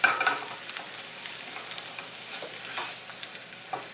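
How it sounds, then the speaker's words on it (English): Eggs cooking in a pan for breakfast tacos, a soft continuous sizzle with a few scraping taps of a spatula as they are flipped, close and fairly quiet. "Take the spatula and flip it."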